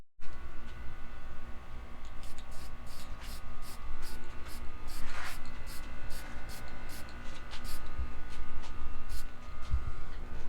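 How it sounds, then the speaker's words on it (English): Continuous hissing spray painting a scooter phone-mount bracket on a paint rack, with faint repeated ticking bursts, close and steady, no talking. "So now I got the bracket on the paint rack, and we're just getting ready to spray it."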